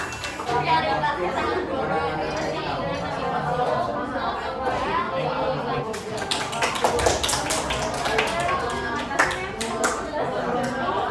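Students and teacher clap together in a classroom during a teaching practicum lesson, a dense burst of hand claps over lively chatter and children's voices.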